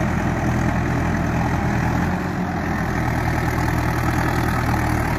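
A tractor engine runs steadily while ploughing a field in rural Assam, a constant loud low-pitched drone with no breaks and no talking.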